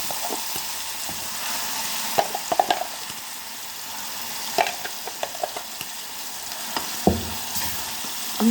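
Ground ripe red chilli chutney with crushed shallots fries in oil, a steady close sizzle broken by occasional clicks and scrapes of a spoon stirring the pan.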